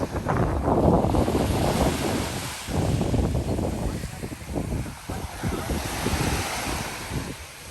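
Sea waves wash continuously onto a white sand beach in Siquijor, with gusts of wind buffeting the microphone and the surf swelling and fading in layers.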